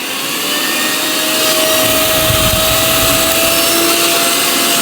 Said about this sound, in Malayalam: ഇനി നമുക്ക് മിക്സി ഒന്ന് ഓണാക്കി നോക്കാം